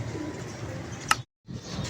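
Pigeon coos come from a loft during a pigeon-keeping session, the soft low calls running fairly steadily at moderate level under a busy background. One brief sharp chirp stands out before a short silent gap.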